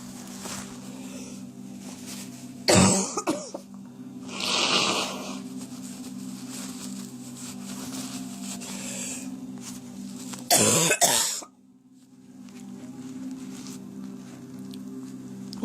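Two sharp, close coughs break through a steady low hum, with a softer rustling burst between them and quiet background after.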